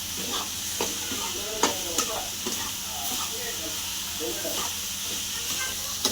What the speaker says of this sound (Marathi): आता आपली सोयाबीन टाकून झाली आता आपण यांचा चांगलं परतून घेऊया